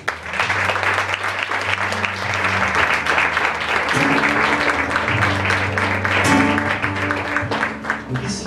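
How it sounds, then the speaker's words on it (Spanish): Sustained audience applause, dense and loud, fills the room at a tribute concert, with steady clapping throughout and faint sustained musical tones beneath. "Un fuerte aplauso."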